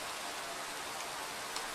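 Steady rain falling in a Minecraft 1.12.2 world running shaders at night, a continuous even hiss of drops with no other sounds over it.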